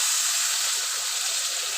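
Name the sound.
water poured into hot pan sizzling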